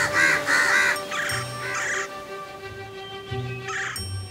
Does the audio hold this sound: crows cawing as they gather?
yes